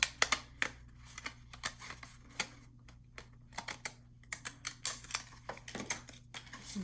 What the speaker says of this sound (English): I'm going to go ahead and just use these scissors